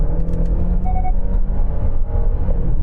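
Genesis GV70 floored from about 40 mph to overtake on a dual carriageway: a loud, steady engine rumble heard from inside the cabin, with a brief rising tone partway through.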